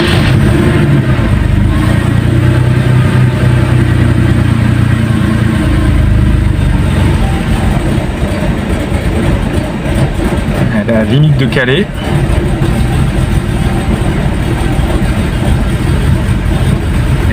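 A Porsche 911 3.2 engine idles while warming up on choke, a loud steady close rumble that runs throughout as someone talks over it.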